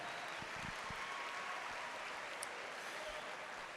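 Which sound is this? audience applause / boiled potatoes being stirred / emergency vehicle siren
audience applause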